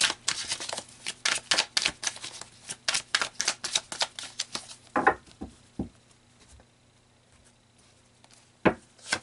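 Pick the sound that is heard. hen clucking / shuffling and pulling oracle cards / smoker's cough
shuffling and pulling oracle cards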